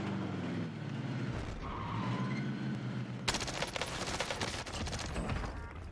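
An AK rifle fires in Warzone, rapid bursts of sharp automatic gunshots that start partway through, layered over engine and skidding noise from vehicles in the match.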